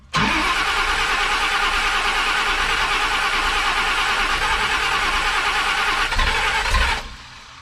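A big-block Chevy with a big cam and an idle problem runs at a loud, steady rough idle, close up, then cuts off abruptly near the end.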